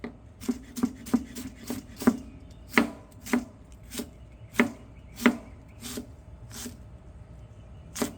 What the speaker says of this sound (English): I prefer cutting things by hand.